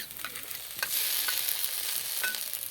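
Mustard, ginger and green chili paste is stirred into vegetables frying in a pan for neem-leaf shukto, giving a steady close sizzle with a few sharp spoon scrapes.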